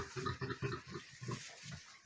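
Piglets just weaned from their sow grunt and squeal in a pen, a quick run of short, rhythmic oinks close by and fairly quiet, with no talking.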